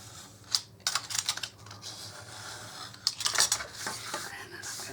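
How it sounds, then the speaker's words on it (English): A craft knife slices at a slant through a foam core board, giving a string of short scratchy cuts and clicks at close range over a faint background hum. "I'm going to make one more cut with you. Line it up. Get the knife in there at a slant."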